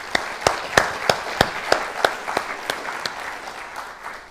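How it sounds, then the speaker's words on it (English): An audience applauds panelists at a leadership talk with loud, evenly spaced claps in a steady rhythm. The clapping gradually thins out and softens toward the end. "So let's give a round of applause for our panelists."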